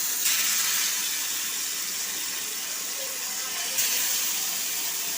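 Fish dropped into hot oil on a dosa pan, a steady loud sizzling hiss throughout with a fresh surge near the end, a voice talking faintly underneath.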